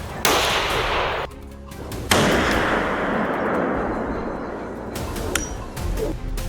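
Loud rifle shots ring out during a wild boar hunt, each a sharp, echoing crack followed by a long rolling decay, with a couple of fainter metallic clinks near the end.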